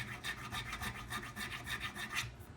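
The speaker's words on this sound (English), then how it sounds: "Let's get some of the glue residues out of that nut slot." Quiet, rhythmic rasping strokes from filing or scraping glue residue out of the nut slot on a Squier mini Stratocaster guitar, about a dozen even back-and-forth passes with no talking.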